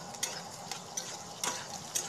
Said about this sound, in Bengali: তো চলো আগে আমি সবিনটা ভেজে নিই।